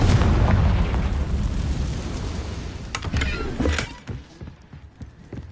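Confringo blasting spell explosion in the video game Hogwarts Legacy: a loud, heavy boom rumbling at the start, then decaying with scattered crackles and debris pops over several seconds.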